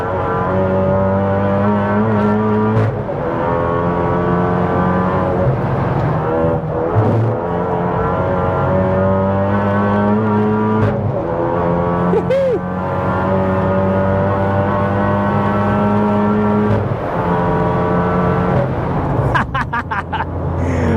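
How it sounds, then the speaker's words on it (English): A VW MK7 Golf R track car laps a circuit at a track day, its engine droning loudly and continuously with rising and falling revs, shifts and a brief tire squeal near the end, heard from inside. "had to include a few laps, a few snippets from the VGS track day here"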